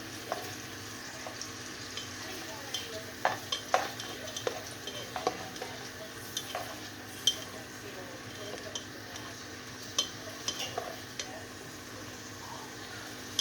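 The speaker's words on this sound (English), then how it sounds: "So you gotta stir this around." Southern style gravy stirred in a pan, a soft steady bubbling hiss broken by scattered light clicks and scrapes of the spoon against the pan, low and close, no one talking.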